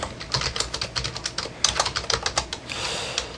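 Rapid, uneven keystrokes on a computer keyboard as HTML code is typed by hand, close and clear with no voices.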